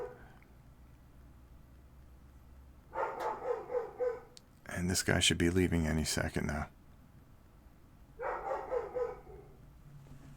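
Several dogs bark and yip indoors in short excited bursts, with a louder stretch in the middle, while someone talks over them.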